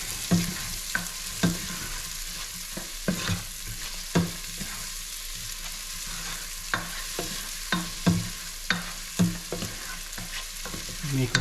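Onions frying in a pan for ginataan with shrimp and mussels, a continuous sizzle broken by regular scraping strokes of a utensil stirring, close and fairly loud, no talking.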